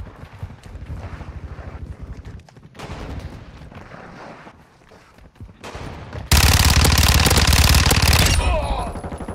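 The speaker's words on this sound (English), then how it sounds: "I'm taking enemy fire!" Gunfire in a first-person shooter video game comes in rapid automatic bursts, then builds into a loud, sustained fusillade of close shots with battle noise underneath.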